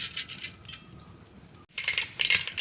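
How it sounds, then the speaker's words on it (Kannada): Mustard seeds and urad dal spluttering in hot coconut oil in a clay pot on the stove, heard as a dense run of sharp crackles and pops that cuts out briefly, then bursts back louder and closer. "ಒಗ್ಗರಣೆ ಸಿಡಿಯಿತು."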